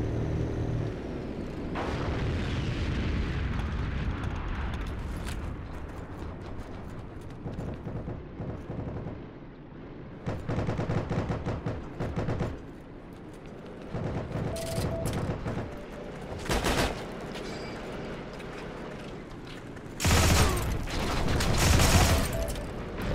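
An M1/M2 carbine fires in Heroes and Generals in bursts of rapid shots. The loud cracks come in several clusters, with short pauses and a rumbling battlefield backdrop between them.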